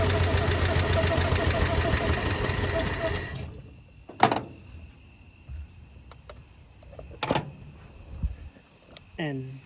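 A Slant 6 engine running after a fuel pump replacement: a steady, busy idle with a high whine that cuts off partway through, leaving quieter ticking, a couple of knocks and a voice.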